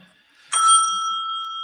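A single bell is struck once after a brief quiet moment, ringing out bright and clear, then sustaining and slowly fading.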